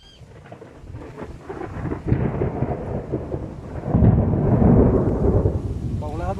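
A thunderstorm with rain at a campsite on a dam: deep rumbling thunder builds and swells over a continuous rain hiss, growing louder midway and staying heavy and close.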